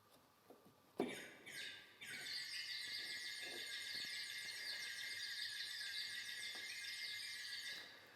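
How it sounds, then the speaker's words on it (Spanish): Continuous high warbling, bird-like whistling trills from an organ's bird-whistle register, pipes set in a water vessel, sustained for several seconds after a short knock. "Son unos tubos que están metidos en un recipiente con agua y produce pues, ese sonido característico de pajaritos"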